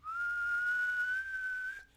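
A voice whistles a long, steady flute-like tone imitating a radiator release valve, sustained for nearly two seconds with a slight upward drift before it fades out.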